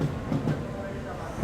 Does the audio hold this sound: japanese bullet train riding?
yes